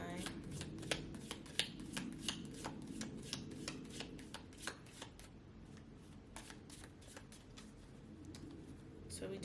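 Playing cards are shuffled and drawn from a deck in a tarot reading, giving a steady run of crisp riffling snaps and flicks at close range, with soft room noise underneath.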